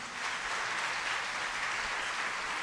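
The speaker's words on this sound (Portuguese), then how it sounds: "Aplaude Jesus." A church congregation applauding during an online worship service, a continuous even wash of many hands clapping with no break.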